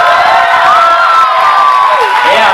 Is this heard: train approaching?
no